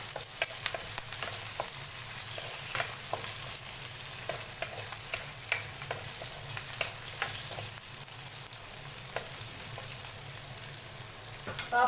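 Chicken and vegetable ingredients frying in a pan hiss in a steady, loud sizzle, with repeated scraping and clinking strokes from stirring throughout.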